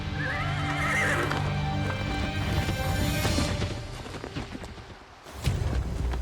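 A horse gives a loud whinny over clopping hooves, with a sharp crash and a thud near the end.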